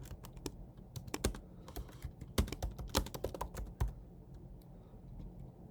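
Irregular bursts of clicking keys on a computer keyboard as C++ code is typed, close and crisp, with short pauses between quick runs of strokes and no talking.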